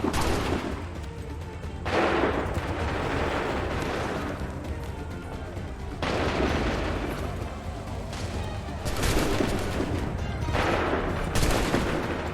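Musket volleys from a line of soldiers in the game Assassin's Creed 3 crack out in loud, repeated bursts of massed gunfire with rolling echoes, under shouted commands.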